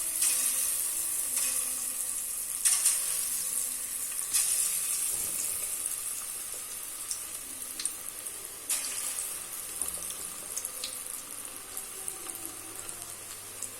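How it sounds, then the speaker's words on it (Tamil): Soft pakoda batter with drumstick leaves, onion and ragi flour dropped in pinches into hot oil, sizzling and crackling steadily and close, with small bursts as each piece goes in and no speech. "இனிமேல் நம்ம இந்த மெது பக்கோடாவுக்கு கொஞ்சம் கொஞ்சமாக அப்படியே கிள்ளி போடலாம்."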